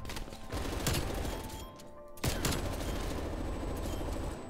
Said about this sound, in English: This thing's got such a fast rate of fire.